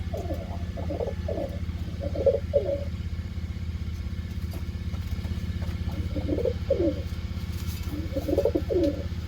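Pigeons coo in a loft, soft repeated throaty calls in short bursts near the start and again toward the end, over a steady low mechanical hum.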